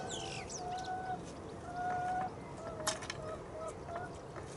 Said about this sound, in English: I can hear the chickens and the birds.